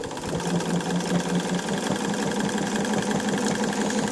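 A sewing machine running steadily while free-motion quilting a wavy crosshatch grid, a fast even stitching hum that holds without pause, close and fairly loud.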